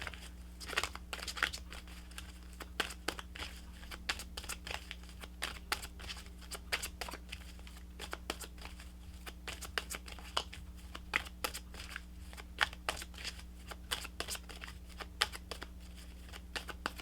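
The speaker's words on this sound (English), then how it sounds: "Let's pull you some additional guidance cards." Guidance cards are shuffled during a tarot-style reading, making a soft, close, continuous crackle of riffling and sliding card clicks with brief sharper snaps, over a low steady hum.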